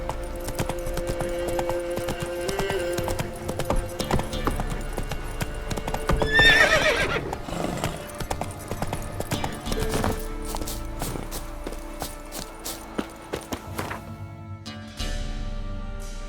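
Roach, the horse in The Witcher 3, gallops with steady hoofbeats and whinnies loudly midway through, set over in-game ambient music.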